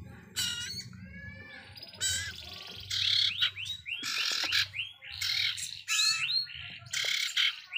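Hand-fed young birds chirp and squawk in repeated bright, shrill bursts, close and fairly loud, with short pauses between calls and a low hum underneath.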